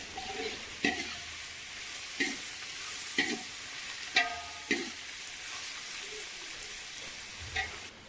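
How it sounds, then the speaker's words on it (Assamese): Sliced onions fry slowly on a low flame for a home-cooked chicken biryani. A soft, steady sizzle runs throughout, broken about six times by sharp scrapes and clanks as the pan is stirred. "একদম ল' ফ্লেমত ভাজিব, বেছি ফ্লেমত ভাজিলে আপোনালোকৰ যোনটো পিঁয়াজ সেইটো ভালকৈ ক্ৰিস্পি নহ'ব"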